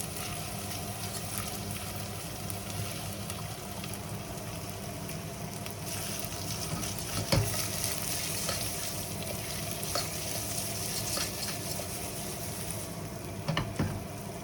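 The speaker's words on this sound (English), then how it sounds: "So we are now toasting the rice." Rice toasting in a pan for a yellow tomato risotto gives a steady, close frying sizzle with scraping stirs and a few sharper clicks near the end, with no one talking.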